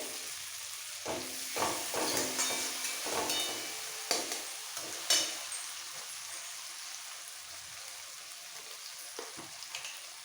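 Cabbage curry with a fish head (rui) is being sautéed in a pan while water is added. A soft, constant sizzle runs under irregular scraping stirs and a few sharper clinks of the spoon against the pan.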